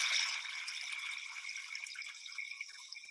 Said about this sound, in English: it was just kind of nice to find this rushing little sort of waterfall, you know, just a gentle brook here